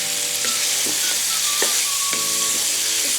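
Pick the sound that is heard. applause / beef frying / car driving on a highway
beef frying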